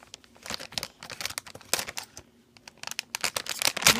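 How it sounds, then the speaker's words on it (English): Plastic surprise packs of Thomas and Friends minis being torn open, a close, busy run of crinkling and tearing with irregular crackles and rustles, no talk. "next we are going to open our 2 surprise packs of Thomas and Friends minis"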